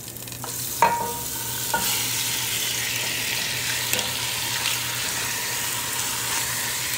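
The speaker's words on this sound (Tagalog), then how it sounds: "Sear muna natin yung beef natin bago natin lagay yung ibang sangkap." Beef searing in a pan of butter and oil for a creamy Filipino beef mushroom dish, a steady close sizzle with a few clanks of stirring near the start.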